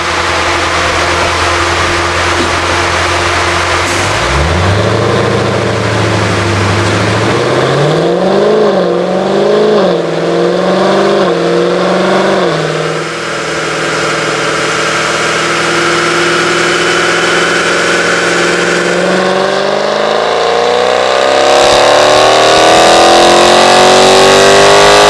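A car engine on a dyno in fifth gear: a loud, close drone that idles, climbs in pitch in uneven surges, dips briefly and then sweeps steadily upward in a long rev.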